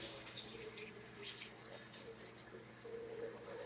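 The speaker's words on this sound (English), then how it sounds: "I do have a sink in this kitchen, so I'm gonna put some water in it" Water runs steadily from a kitchen sink tap in a rural home, a soft continuous splashing stream filling a container, quiet and close.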